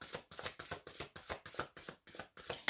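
Tarot cards with silver gilded edges being shuffled by hand, a close, soft riffling repeated in quick regular bursts about every quarter second, with no talking.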